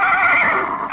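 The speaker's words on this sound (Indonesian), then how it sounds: "Yang terdengar hanya suara langkah kuda dan dengus napas kuda" A horse gives a short, loud, close snort or whinny-like breath, with no talking over it.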